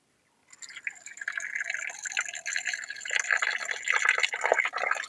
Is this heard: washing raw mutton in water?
yes